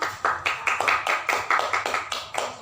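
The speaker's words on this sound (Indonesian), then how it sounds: "tepuk tangan dulu kita." A class claps hands together in a rhythmic pattern, about a dozen crisp, evenly spaced claps in quick succession, close and clear with no talking over them.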